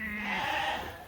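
Sheep on a farm give a single short, fairly loud bleat close by, in a quiet yard on a hot day, with no talking.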